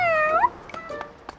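A cartoon cat lets out one clear, rising meow, loud and close, in a children's animated show about buses. Faint clicks and soft background sound follow.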